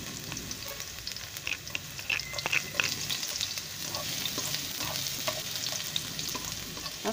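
Garlic sizzles and fries steadily in hot cooking oil in a home kitchen, a continuous bright crackle with occasional stirring clinks, close and alone without talk.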